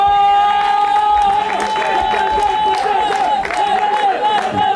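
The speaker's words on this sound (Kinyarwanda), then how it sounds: "Ndagira ngo mumere amashyi cyane undi mugabo bita Ijambo." Crowd at an album launch performance cheering and whooping loudly and steadily throughout, with scattered clapping and shouts beneath a sustained tonal sound, voices mixed into the din.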